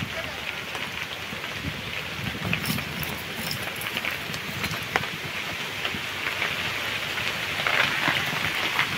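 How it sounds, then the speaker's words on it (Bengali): Rain falls steadily outdoors as a dense, continuous hiss with scattered drops tapping nearby surfaces, holding even throughout. "বৃষ্টি কিন্তু চলে এসছে"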